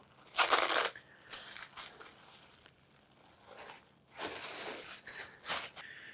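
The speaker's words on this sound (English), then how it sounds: "I'm just going to unroll it here and peel back the saran" Crinkling and crackling of plastic saran wrap being unrolled and peeled back from a breakfast sausage roll, coming in several close, soft bursts.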